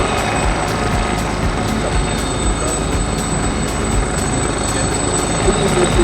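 Gazelle and BK117 helicopters performing aerial ballet at the Polokwane Airshow 2024: a steady, loud rotor and turbine drone fills the air continuously, with faint rhythmic blade chop throughout.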